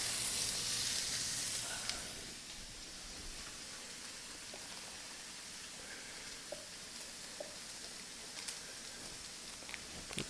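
Jean Pierre burgers sizzle on a Chantal stainless griddle over a GE Cafe induction range, a steady hiss that softens after the first couple of seconds, with faint scattered pops and ticks and no voices.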